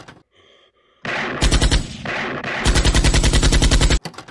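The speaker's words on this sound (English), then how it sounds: "So now we have Michael Myers with a big gold machine gun." Toy machine gun from a Michael Myers horror figure firing, with a rapid, loud electronic burst of rattling shots that stops, then resumes in a steady fast stream before cutting off.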